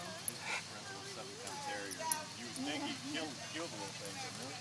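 Small dogs yip and whimper in short, high-pitched bursts, with voices talking over them throughout.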